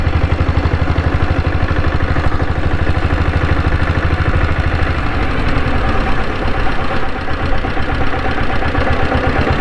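A Royal Enfield diesel Bullet motorcycle engine runs with a steady, loud clattering knock through gear changes, a dense rhythmic thump close by, briefly shifting in tone near the end, no voices.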